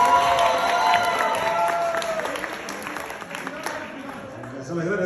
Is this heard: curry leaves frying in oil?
no